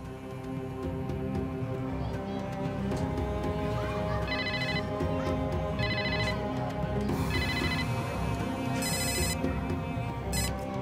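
A telephone rings in repeated short bursts over steady background music in a police scene, each ring clear and electronic-sounding, spaced a second or two apart.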